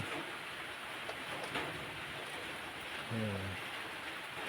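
Steady rain falls at midday near Phu Thom Phra mountain, a soft broadband hiss with scattered drips and one faint low tonal swell late on, continuous and moderately distant.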